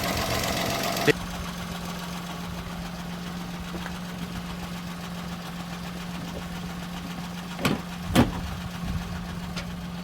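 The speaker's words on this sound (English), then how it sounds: "Exhaust is running, sounding nice and sweet." A Peugeot 107 engine idles steadily after a new exhaust manifold and catalytic converter were fitted, a low, even exhaust drone punctuated by a few brief clicks and knocks near the end.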